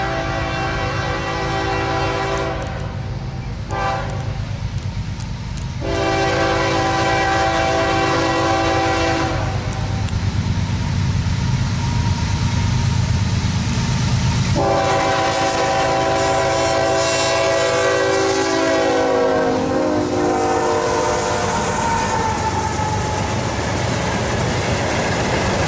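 CSX 5458, a GE ES40DC diesel locomotive, leads freight train Q603 in Folkston, Georgia, with long loud horn blasts over a deep engine drone and the steady rumble and clatter of passing freight cars.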